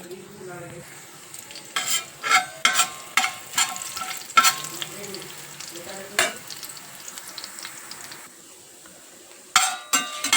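Coriander seeds fry in a tablespoon of hot oil on low flame, a soft steady sizzle with repeated sharp scrapes and clinks of a spoon stirring in the pan, close and alone.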